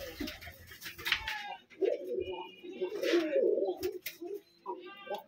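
Pigeons cooing close by in soft, low, rolling bursts, with some brief higher chirps and other faint background sounds between the coos.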